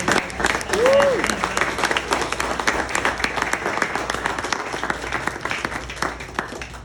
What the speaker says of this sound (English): So give Dr. Becknell a big round of applause.